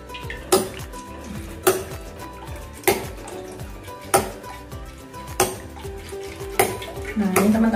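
Cookware clatters in a home kitchen as oil is readied in a pan for frying crispy tofu: sharp metallic clanks land about every second and a quarter, close and fairly loud, over faint kitchen clatter.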